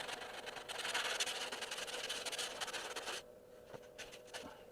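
Hand sanding with sandpaper gives a continuous close rasping rub for about three seconds, then stops, followed by a few brief scrapes.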